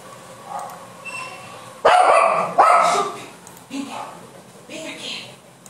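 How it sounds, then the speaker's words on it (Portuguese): A dog at home barks in a couple of loud, sharp bursts midway, with quieter yips and whimpers around them, close by, while someone talks over it. "tem um cachorro maluco aqui em casa e tá latindo pra caramba"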